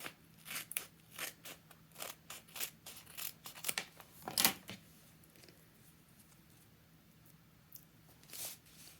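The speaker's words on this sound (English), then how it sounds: "I'm going to take and cut some nice big pieces" Scissors cutting paper pieces for a layered craft design, a series of close, crisp snips and crunches in a quick uneven rhythm, thinning out to an occasional cut toward the end.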